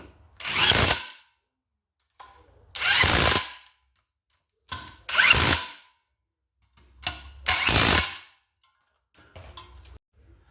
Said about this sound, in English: So we're going to use our AEG rattle gun with our 17mm socket